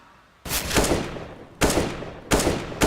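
Three loud, sharp bursts of M4 rifle fire from the CS:GO video game, each a sudden crack with a decaying tail, spaced about a second apart, with no voices over them.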